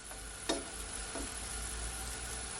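French toast fries in a pan, crisping and golden after being flipped, giving off a steady close sizzle with a couple of brief clicks or scrapes near the start.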